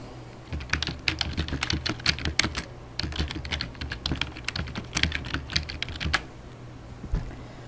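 Close, continuous typing on a computer keyboard, with rapid clicking bursts and short pauses while filling in a mileage reimbursement form, no voices present.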